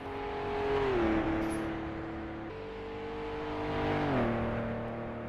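Race cars at the Dundrod Tourist Trophy race pass one after another, their engine notes swelling and then dropping in pitch as each goes by at moderate distance, with no talk.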